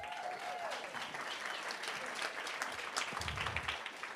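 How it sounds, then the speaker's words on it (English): A tech summit audience applauds itself, steady dense clapping sustained throughout with a faint crowd murmur and a brief voice near the start. "give yourself a round of applause"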